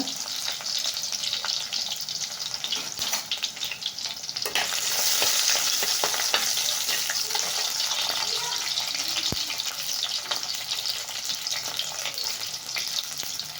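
Small shallots sizzle and fry in hot oil with popped mustard seeds in a pan, a steady hissing crackle that swells louder midway as they are stirred.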